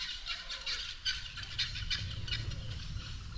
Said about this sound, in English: My birds